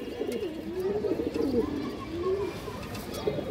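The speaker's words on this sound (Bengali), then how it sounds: "আফসান বাঘা মাদি কবুতর, খুব সুন্দর একটা মাদি" An Afsan Bagha female pigeon coos in soft, rolling low phrases, near and continuous, with other birds faint in the background.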